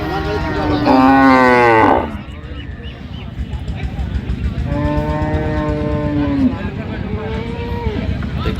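Friesian cattle at a cow market in Cox's Bazar, two loud, drawn-out moos close by, with a continuous murmur of crowd noise underneath.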